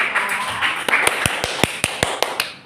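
A small classroom audience claps during a microteaching lesson, giving a short run of separate, evenly spaced claps over a steady background hiss.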